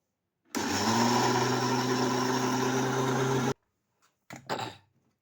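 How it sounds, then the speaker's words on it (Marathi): Mixer grinder whirs loudly and steadily for about three seconds grinding soaked rice and dal, then cuts off, followed by a short bout of clatter and brief, smaller bursts. "आता छान याचा मिक्सरमधून बारीक करून घ्यायचं आहे"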